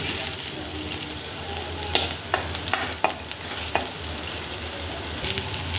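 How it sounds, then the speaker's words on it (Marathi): Grated coconut roasts in hot oil for misal, a steady close sizzle running throughout with several sharp scraping stirs of a spoon against the pan. "खोबरं पण मस्त गुलाबी कलर येईपर्यंत भाजून घेते."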